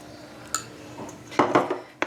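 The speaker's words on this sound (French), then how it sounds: "Donc là je continue de mélanger jusqu'à ce que je termine mon chocolat" A spoon clinks against a bowl while melted chocolate is folded into egg whites for a chocolate mousse, a few light scattered taps and scrapes, close and fairly quiet.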